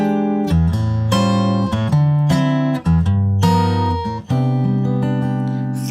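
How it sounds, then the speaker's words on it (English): A keyboard plays a 3-6-2-5 progression of four rich, extended chords with added color tones, sustained and fairly loud, changing every second or so without any voice. "3, 6, 2, 5, with some color tones added in there."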